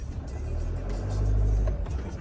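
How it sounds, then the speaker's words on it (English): A Trail Expedition 67 pop-top motorhome is backed up on wet moorland in the rain, its engine giving a steady, close, low rumble that swells slightly midway, with light rain hiss on top. "Put the car back there so we won't go back too far."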